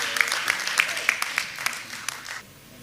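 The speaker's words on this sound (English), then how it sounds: "Let us clap for them," Shareholders at a company meeting applaud. A few distinct, regularly spaced claps stand out over a softer background of clapping, which fades out toward the end.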